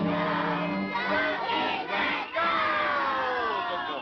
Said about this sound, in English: Let's give a round cheer for Howdy Doody's here.